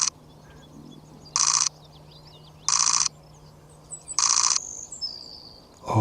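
Savannah sparrow calling outdoors in cold weather, three bright buzzy bursts spaced evenly apart with fainter chips and twitters between them, fairly close and heard alone without talk.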